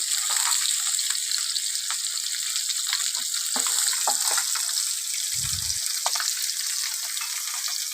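Whole cumin seeds sizzle in hot oil for a village-style catla fish and yam curry, a steady, close crackling hiss with a soft thump partway through and no voices.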